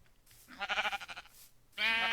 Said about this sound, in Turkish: Gördüğünüz bir sürü koyun geliyor.